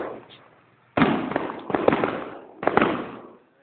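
Firecrackers going off outdoors in three loud crackling bursts about a second apart, each a dense rattle of sharp pops that trails off, with faint noise between them.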